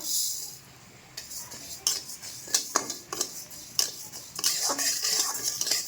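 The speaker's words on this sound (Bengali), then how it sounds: "এটা কিন্তু খুব সুন্দর করে ভেজে নিতে হবে, এত সুন্দর ভাজতে হবে চালটা যেন একদম মচমচা হয়ে যায়" Gobindobhog rice is fried in ghee in a wok and stirred with a metal spoon, giving sharp scraping and clinking strokes in an irregular rhythm over a soft sizzle, close and fairly quiet.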